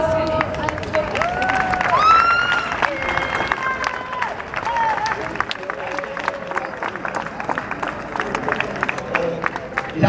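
Applause from an audience at an award ceremony at a rally in Graz, sustained dense clapping with some cheering and crowd murmur, while a voice talks briefly over it.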